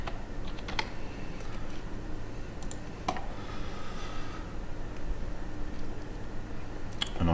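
Computer keyboard typing a quick search for brake pads in a quoting system, a steady run of soft key clicks with a few sharper taps, close and alone over a low room hum.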